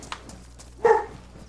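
A single short bark from a dog in the video game DayZ, one brief clear woof near the middle, standing alone over faint background noise.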